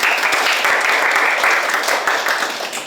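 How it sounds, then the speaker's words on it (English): A class of students claps to welcome visiting teachers to an English lesson at a secondary school, a loud, dense round of hand clapping that holds steady for a few seconds and then begins to ease off. "Clap your hands to welcome the teachers."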